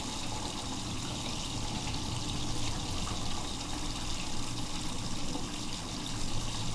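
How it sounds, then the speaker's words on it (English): Hot water running from a household sink tap, a steady broadband rush of flowing water that continues evenly and alone throughout, fairly close. "I turned the hot water on."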